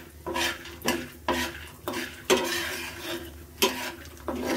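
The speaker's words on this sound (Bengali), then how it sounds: "আমার বাদামগুলো আগেই ভাজা ছিল, এই জন্য এখন হালকা একটু ভেজে নেব।" Already-roasted peanuts are lightly fried in a pan and stirred with rhythmic scraping strokes, about eight of them at regular intervals, over a soft sizzle with no talking.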